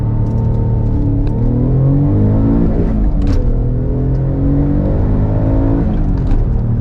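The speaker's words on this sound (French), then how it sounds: "Tu mets les gaz, au point mort" Alfa Romeo 147 GTA engine revved in neutral while parked, its loud, steady exhaust note climbing and falling through several throttle blips with no talking over it.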